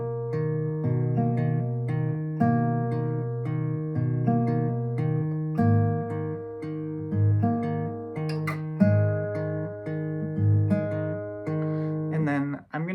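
An acoustic guitar plays a fingerpicked melody, with clear repeating plucked notes over a low bass line, close and steady throughout.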